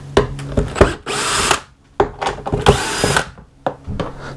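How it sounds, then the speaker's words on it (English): Power drill with a T25 bit undoing the air filter screws on a VW Up GTI during a service, in short loud bursts separated by brief pauses, close and alone. "So we're using T25 to undo the bolts."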